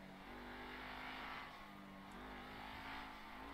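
A video game car engine plays: an Ocelot F620 modelled on a Maserati GranTurismo in GTA Online, heard as a loud continuous drone with steady tones that shift slightly in pitch as it revs. No one speaks over it.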